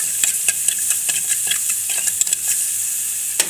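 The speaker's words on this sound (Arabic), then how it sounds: "نحمر بقى البطاطس والبصل قصدي ونيجي مع بعض" Potatoes and onion fry in hot oil with a bright, steady, close sizzle, dotted with quick sharp pops and crackles throughout.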